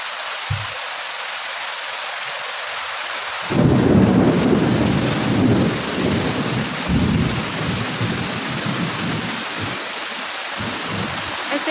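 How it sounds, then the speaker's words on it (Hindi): Heavy rain pours steadily with loud rolling thunder breaking in a few seconds in and rumbling on, surging and fading under the constant downpour; no talking. "बहुत ज़्यादा बारिश हो रहा है और बादल भी गरज रहा है बहुत ज़्यादा।"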